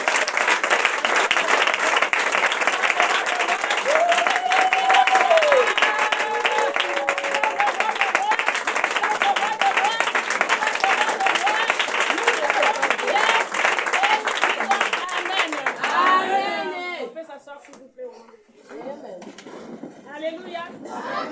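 A church congregation bursts into loud, sustained applause and acclaim for about fifteen seconds, with voices mixed in, before the clapping fades and the crowd quiets.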